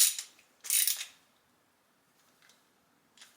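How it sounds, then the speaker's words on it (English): Socket wrench ratcheting while tightening a part on a snowblower, two short bursts of close metallic clicking followed by a few faint, brief ticks, with no talk. "Screw that on. Use the socket."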